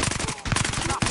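Rapid automatic gunfire in Battlefield Hardline, a fast rhythmic string of close shots with a brief gap midway before the burst resumes.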